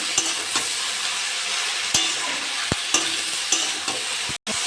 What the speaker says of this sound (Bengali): আদা রসুন বাটা 1 চামচ দিয়ে দেবো, নেড়ে চেড়ে নেবো